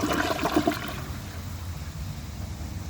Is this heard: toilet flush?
yes